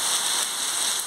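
Rain falls steadily in Guadalupe, Piauí, in northeast Brazil, a dense even hiss of drops on surfaces, loud and close, with no voices.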